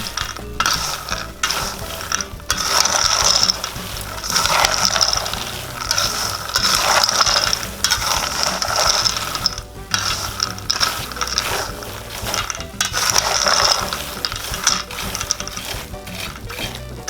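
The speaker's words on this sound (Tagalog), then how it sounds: "Para po malagyan po lahat ng asin ay kailangan po natin hahaluin ng" Fried peanuts and salt are stirred in a pan, a steady dry rattling and scraping that rises and falls in rhythmic bursts, with no talking.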